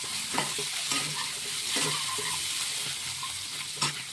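Masala spices sizzle steadily in a hot pan while a spatula scrapes and stirs at irregular intervals, close and moderately quiet, with no voices.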